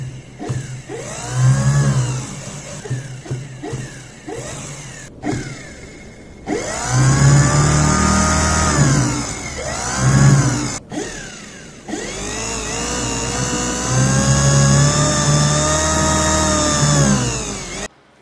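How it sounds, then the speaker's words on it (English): A small brushed DC motor runs on a 60-volt e-bike charger, whining loudly and steadily with pitch rising as it spins up, cut off abruptly twice before restarting, then running on alone. "Now let's connect a 60 volts DC e-bike charger to this motor and see"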